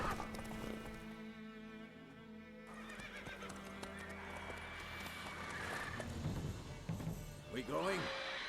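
A horse in the Witcher 3 video game whinnies and its hooves clip-clop, with game sounds around it and a voice speaking over part of it.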